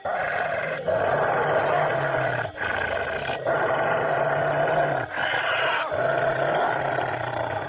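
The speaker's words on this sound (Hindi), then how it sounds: "वह भेड़िया जोर जोर से गुर्राने लगता है" A wolf growls loudly and continuously in deep, rough roaring phrases, close and forceful, with a few brief breaks between surges and no talk over it.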